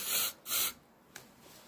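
Two short hissing bursts from a Lynx Gold body spray can, close and soft, followed by a faint third puff and quiet.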